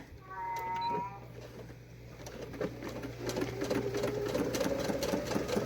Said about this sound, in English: We're also going back to a straight stitch, and we're increasing the length. My machine is at a 4 for stitch length.